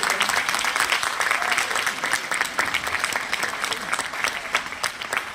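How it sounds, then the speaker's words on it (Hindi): A crowd applauds steadily throughout, a dense patter of many hands clapping, moderately loud and without any talking. "तो जोरदार तालियों के साथ हम मिलाएंगे मोदी केयर।"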